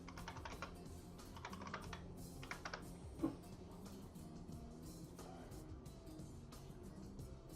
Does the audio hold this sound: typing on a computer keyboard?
yes